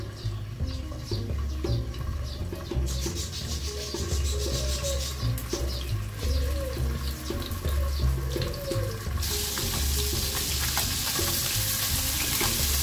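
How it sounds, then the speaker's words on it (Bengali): Fish sizzling steadily in hot oil in a home kitchen pan, a dense continuous frying crackle with occasional stirring clatter and a faint tap-water rush underneath, close and even throughout. "চলুন এখন মাছগুলো ভেজে নিব"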